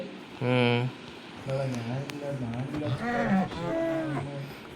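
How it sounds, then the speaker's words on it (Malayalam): A cow in a Minecraft-style mining game gives several drawn-out moos in sequence, fairly clear and close, with people talking between and over them. "പശുവിനൊക്കെ ഉണ്ട്."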